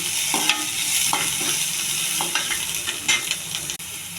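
Raw banana pieces frying in a pan, a close, continuous sizzle broken by several spoon scrapes and taps, without any talking.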